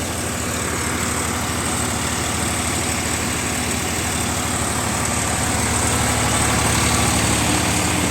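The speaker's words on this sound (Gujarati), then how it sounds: "કોથળા લેવા માટે અહીંયા ટ્રેક્ટર આવ્યું છે ફાર્મ ટ્રેક બેતાલીસ ચેમ્પિયન" A Farmtrac 42 Champion tractor engine idles close by, a loud, constant low rumble with a steady throb and no other sounds.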